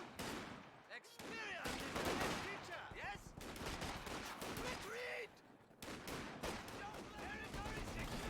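Dense, continuous gunfire from infantry units and grenadiers in Company of Heroes 2: overlapping rifle and machine-gun bursts crackling steadily through the battle, with a commentator's voice running underneath.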